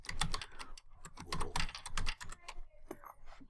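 Rapid, irregular clicks of typing on a computer keyboard, close and crisp, with short bursts of keystrokes and brief pauses between them.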